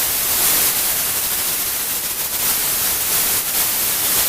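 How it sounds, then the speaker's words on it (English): Steady, loud white noise from a synthesizer noise generator in Ableton Live hisses without a break, a flat static wash from start to finish with no other sounds. "you basically get a white noise generator,"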